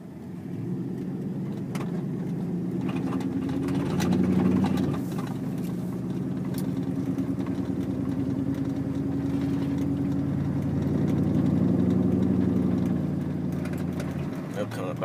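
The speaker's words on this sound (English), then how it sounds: "This is a Chevrolet, but it sounds like a Dodge." A Chevrolet Silverado truck with a custom aftermarket exhaust rumbles steadily as it drives, a deep loud drone swelling twice with throttle while someone talks over it.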